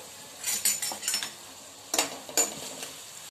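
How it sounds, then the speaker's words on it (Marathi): Chopped onion sautéing with cumin and mustard seeds in a pan for a festive Ganesh Chaturthi meal, heard as soft sizzling with a few scraping, clinking stirs of a metal spoon against the pan, close by and without talk. "आता हे छान जरा सोनेरी कलर येऊस्तर, गुलाबी होऊस्तर कांदा परतून घेऊया"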